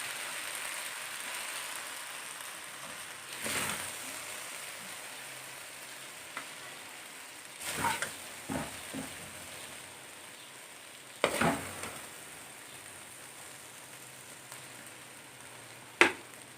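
Chicken and vegetables frying and being stirred in a pan on the stove, with a steady close sizzle and several louder scraping stirs spread through, no talking.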